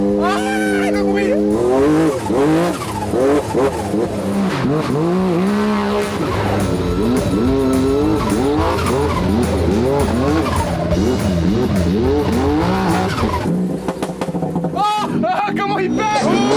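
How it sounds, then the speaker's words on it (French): BMW M4 with a Rocket Bunny wide-body kit and a ProWeld exhaust revs hard and close, its engine note rising and falling in repeated loud sweeps while voices exclaim over it. "Je vous montre aussi l'échappement que m'a fait ProWeld."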